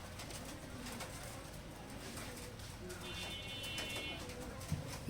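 Pigeons coo among chickens as they eat wheat together, the soft calls low and steady over a noisy farmyard background with some voices.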